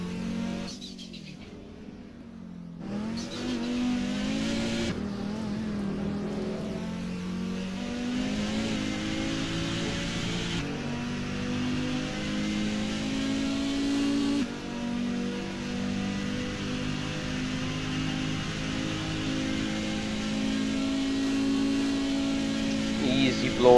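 An Audi 90 race car in the racing sim Assetto Corsa revs and accelerates steadily, its engine note rising and falling through gear changes at Spa with a brief drop near the start.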